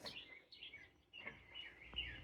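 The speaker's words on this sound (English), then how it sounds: "don't mind the loud bird chirping all around me" Birds chirp in springtime outdoors, with sharp repeated high calls scattered across the moment, fairly loud and close against quiet background, no talking.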